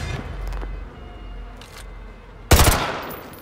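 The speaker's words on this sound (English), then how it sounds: "Take the shot. Go for his leg." A single sharp, loud gunshot in Call of Duty: Modern Warfare II cracks out after a quiet stretch with faint game ambience, followed by a brief decaying tail.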